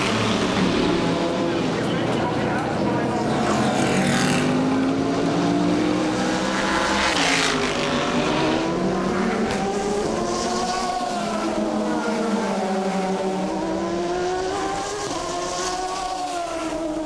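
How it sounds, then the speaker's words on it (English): Sports prototype and GT race cars lap the Mosport circuit during an American Le Mans Series race, engines wailing and shifting pitch as they pass, loud and continuous under a broadcast commentator's voice. "Alan McNish flashes by the front straightaway, takes the lead"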